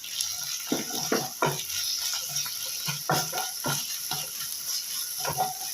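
Ginger garlic paste and onions sauté in a pan for a mutton leg gravy, with a steady wet sizzle and intermittent scraping knocks as the mixture is stirred.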